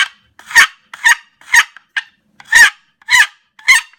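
A hand-operated turkey call gives seven short, sharp clucks in an even rhythm, each a brief bright burst with clean silence between them and no talking.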